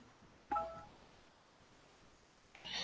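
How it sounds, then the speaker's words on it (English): A phone notification ding rings out once as a short, clear tonal chime up close, followed a couple of seconds later by a brighter electronic chirp over a quiet room. "My phone just dinged."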